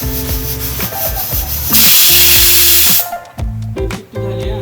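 A pressure cooker cooking chicken biryani lets out a loud, steady rush of hissing steam for just over a second, cutting in over background music that continues before and after.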